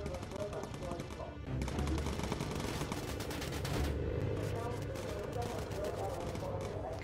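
Rapid machine-gun bursts from a bomber's turrets firing at enemy planes in the Bomber Crew game, a continuous dense rattle throughout with engine drone beneath and voices talking over it.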